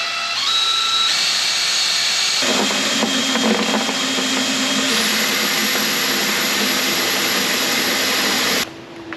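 A loud, continuous motorized whine of a drill-driven pump pushing water through a system into a bucket, steady and close, shifting pitch a few times before cutting off near the end.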